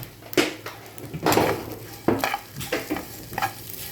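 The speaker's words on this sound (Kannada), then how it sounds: "ಇನ್ನು ಮಸಾಲೆ ಈಗ ಕೊತ್ತಂಬರಿ ಕಾಳು ಮತ್ತು ಜೀರಾ ಎಲ್ಲ ಅದನ್ನು ಕೂಡ ಫ್ರೈ ಮಾಡಿ ತೆಗಿಬೇಕು." Coriander seeds and cumin frying in a pan while being stirred for a chicken curry, with close scraping and stirring strokes over a soft steady sizzle, no voices.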